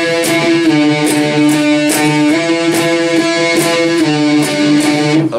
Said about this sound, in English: And then he does this octave melody.